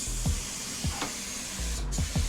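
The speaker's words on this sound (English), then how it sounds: "From black to chrome in just 2 sprays." Alumoluster chrome paint sprays steadily onto a helmet from an airbrush or spray gun, a continuous close hiss broken by a few soft low pulses and a brief dip near the end.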